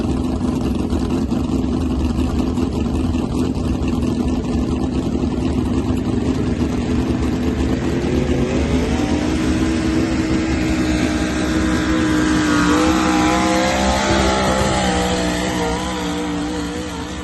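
A hard-run Ford truck engine idles steadily at a live event, its low rumble rising into a longer rev toward the end, loud and continuous without speech.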